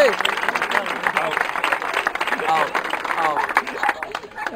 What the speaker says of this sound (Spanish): ¡Aplausos para esta batalla!